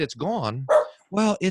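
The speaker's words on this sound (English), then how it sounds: "in the background there, that's my dog Barney barking" Barney, a pet dog, barks a few times in the background, mixed in with and partly under a man's nearby speech.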